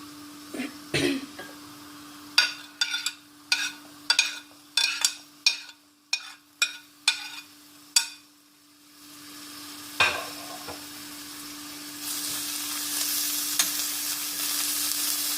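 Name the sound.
onion frying in oil in a pan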